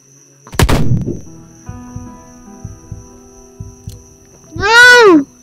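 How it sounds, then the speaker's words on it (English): Gunfire in a shooting video game: a loud burst of shots near the start, a run of lighter spaced impacts through the middle, and a loud rising-falling tonal sound near the end. "someone shooting"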